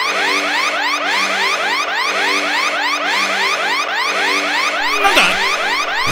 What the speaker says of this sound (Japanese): 警報。 もしかして侵入してることがバレたのか。